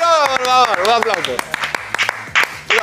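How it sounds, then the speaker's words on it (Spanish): A studio audience on a TV show claps for Ramón Quiroga, starting as a spoken voice fades. The sharp, scattered claps are fairly close and continue for a few seconds. "Un aplauso para Ramón Quiroga"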